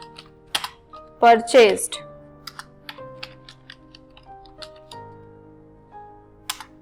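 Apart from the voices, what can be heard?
typing narration on a computer keyboard in Tally software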